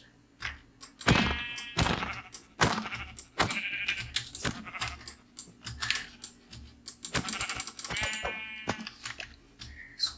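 Sheep bleating in Minecraft, several short bleats repeating at moderate volume, mixed with frequent sharp mouse or keyboard clicks and game sounds.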